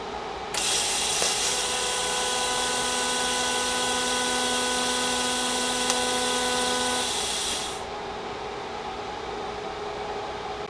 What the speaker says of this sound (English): So we'll throw another tack on this side real quick.